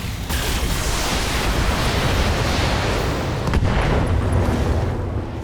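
A King Crab mech blows up in the Battletech video game, a dense, loud, sustained explosive rumble lasting several seconds with a heavy low-end roar and a brief extra burst near the middle.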